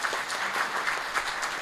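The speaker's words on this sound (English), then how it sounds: "Let's have a round of applause for that" An audience at a community seminar claps in a hall, a fairly faint but steady patter of applause heard from a distance throughout.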